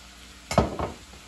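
Vegan spaghetti squash frying in a pan as a spoon gives it a quick stir, with two close scraping knocks over a faint sizzle.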